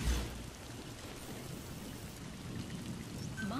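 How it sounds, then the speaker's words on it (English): Steady rain pours down in the Metal Gear Solid V: The Phantom Pain video game, a dense, even hiss of drops that runs without a break and has no voices over it. "It's weird to have all this rain because I'm used to the desert not having like any of it."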